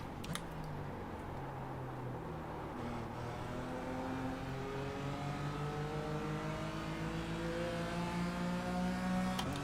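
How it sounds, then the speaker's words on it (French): Several Porsche race cars in the iRacing simulator drone steadily behind, their engines rising and shifting through gears in overlapping whining tones, fairly loud and continuous with no talk. "j'ai l'armada derrière qui revient avec leur Porsche"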